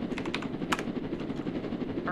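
A helicopter in the Roblox game Jailbreak, its rotor thumping in a steady rapid rhythm close by, with a few sharp clicks and game effects over it and someone talking.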